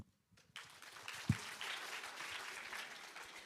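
Audience applause at a high school student council election debate rises after a candidate's speech ends: a sustained, fairly distant wash of clapping from a crowd in a hall, steady throughout.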